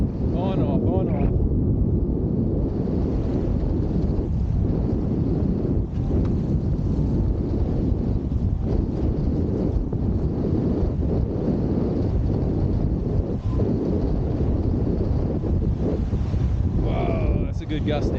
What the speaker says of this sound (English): Whoa, that's a good gust now.